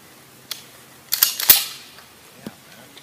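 A sharp gunshot fired into a hornets' nest rings out alone at close range, followed by a burst of crackling debris and a fainter pop afterward.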